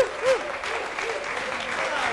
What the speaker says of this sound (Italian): Rivolgiamo un applauso a questi ragazzi.